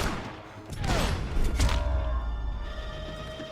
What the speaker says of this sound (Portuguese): ele atirou em mim